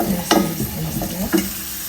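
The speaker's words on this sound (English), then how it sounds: "You can see that we did not add a lot of oil, but still our veggies are still frying." Vegetables sautéing in a little oil in a pan, a steady close sizzle and frying hiss broken by a couple of scraping stirs, with no voices.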